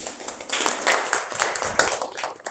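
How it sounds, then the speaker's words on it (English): Students clap in a classroom for their classmates, a burst of quick overlapping claps at moderate loudness that fades toward the end. "Clap for them also."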